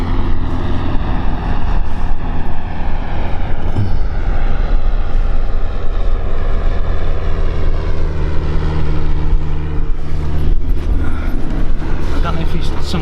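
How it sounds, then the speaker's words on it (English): Small spotter aircraft flying low between sailboat masts at an anchorage: a steady, loud propeller engine drone that carries through the whole clip, with someone talking over it. "I don't know if it's some kind of spotter aircraft or something, but literally below the tops of their masts."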